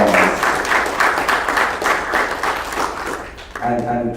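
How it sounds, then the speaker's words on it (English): Loud, lively applause from an Art Basel conversation audience, clapping densely for several seconds before it tapers off and a voice begins. "give him a really strong round of applause."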